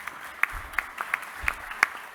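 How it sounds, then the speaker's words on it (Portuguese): Sparse applause with a few distinct claps at an anniversary event for a bank workers' union, irregular single slaps rather than a full ovation, moderately near and fairly quiet. "Uma salva de palmas, Tonica."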